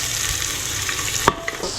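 Onion fries in hot ghee for dhaba style dal fry, giving a loud, continuous sizzle with a sharp crackle and clink near the end, and no talking.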